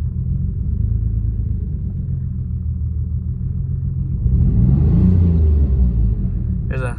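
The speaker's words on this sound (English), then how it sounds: "I'll rev it for you guys. See how there's like a slight hesitation?" A 1991 Mitsubishi 3000GT VR4 with a slight hesitation idles with a steady low rumble, then is revved once, the engine note rising and holding briefly before settling, close by.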